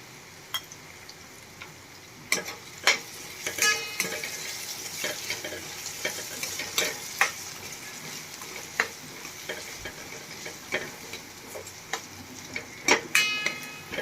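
Kantola (spiny gourd) being stirred in a pan with salt and turmeric over low heat, a spoon scraping and clicking in scattered taps over a steady soft sizzle, with faint water-like noise underneath.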